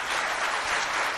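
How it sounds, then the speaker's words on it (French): A school audience at a provincial competition applauds, a dense continuous wash of clapping at steady moderate loudness for a short burst, with no voices standing out. "tout le monde acclamez pour moi"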